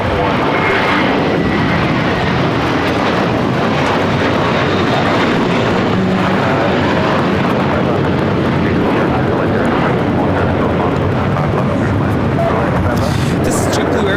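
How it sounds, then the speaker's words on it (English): A JetBlue Airways Airbus A321 takes off at LAX, its jet engines a loud, sustained, broadband roar that fills the whole stretch, with a voice faintly under the noise. "This is JetBlue Airways Flight 300 taking off to Fort Lauderdale on the A321."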